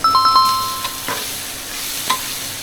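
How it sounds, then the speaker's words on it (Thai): Tofu is stir-fried in a pan for pad thai, giving a close, loud sizzle with a few clinking strokes of a utensil against the pan. "เราก็จะใส่เต้าหู้ลงไป เต้าหู้ไม่ต้องผัดเยอะนะคะเดี๋ยวมันเละ"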